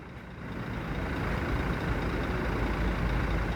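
A Jet Bus 3 bodied bus passes by as a steady, rising roar of engine and road noise that grows louder and stays close to the end.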